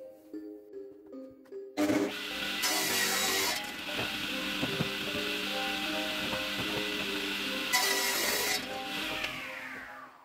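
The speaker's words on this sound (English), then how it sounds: "Next, the table saw." A table saw cuts wood in a home workshop while a custom clock is being made, starting with a sudden loud whine that holds steady for several seconds, with a brighter screaming stretch as the blade bites into the board.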